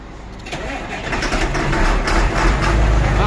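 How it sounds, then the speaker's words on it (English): A cold, hard-starting tractor engine cranks and catches, building into a loud, steady close-up idle rumble that grows in strength over a few seconds. "This one's a hard starter when she's real cold."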